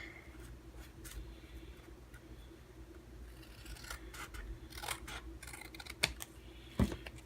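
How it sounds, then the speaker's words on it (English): Scissors snip through cardstock while a handmade Stampin' Up! Country Home card is made, giving a few short, quiet, crisp cuts in a fairly still room, with two sharper snips near the end. "We'll just cut this off"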